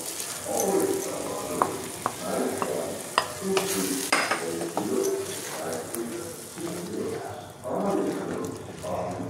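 Boiled dal is poured into sizzling fried masala in a pan for Punjabi-style Amritsari dal, bringing bursts of loud hissing and spoon scrapes, while pigeons coo in the background.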